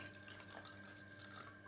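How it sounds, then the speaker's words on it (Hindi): Water is poured into two transparent glasses at home, a soft continuous trickle and splash that runs steadily from start to finish, close up and fairly quiet, with no talking. "पानी डाल लिया है दोनों में।"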